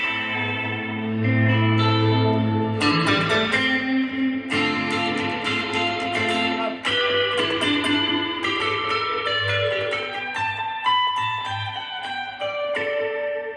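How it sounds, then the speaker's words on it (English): Bright, chiming Fender Jazzmaster electric guitar chords ring out with lush reverb and echoing delay, notes overlapping and sustaining into a shimmering wash. "It sounds the best with reverb and a delay and a tremolo."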